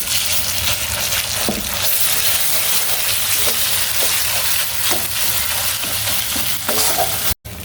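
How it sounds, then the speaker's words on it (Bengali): Spices for a soybean nugget curry frying in a pan over low heat, a steady loud sizzle with repeated scraping strokes of stirring throughout, no talking. "মশলা কষানোর সময় অবশ্যই চুলার আঁচটা কমিয়ে রাখতে হবে, না হলে মশলা পুড়ে যাবে"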